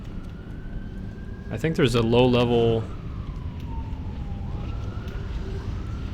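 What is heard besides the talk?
siren outside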